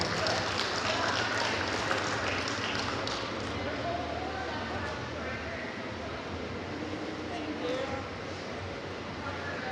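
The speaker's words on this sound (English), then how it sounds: "So big round of applause for these young handlers" Audience applause for young handlers at the NZDE event, a dense, steady crackle of many hands clapping throughout, with a voice talking faintly underneath.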